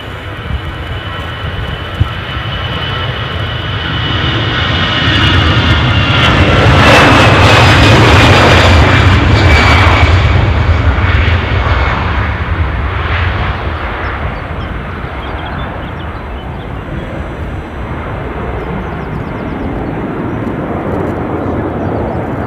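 Jet airliner arriving from Prague at Edinburgh airport, its engine noise swelling to a loud peak midway then easing off into a lingering rumble.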